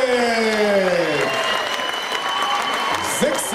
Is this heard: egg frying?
no